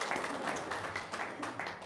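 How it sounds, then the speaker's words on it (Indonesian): An audience applauds, a faint, steady spread of clapping heard from some distance with a low murmur beneath it. "Wow, tepuk tangan dong, luar biasa."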